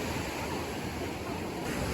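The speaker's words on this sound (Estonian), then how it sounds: "Siin lained on korralikud." Ocean waves break at Portito de los Meninos in a dense, continuous roar of surf, loud and close with no pause and no voices.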